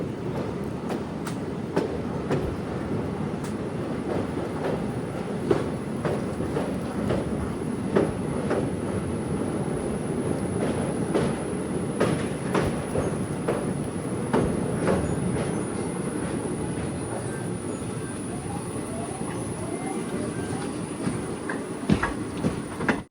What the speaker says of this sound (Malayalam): ട്രെയിൻ ഇപ്പോൾ കണ്ണപുരം റെയിൽവേ സ്റ്റേഷനിലെത്തി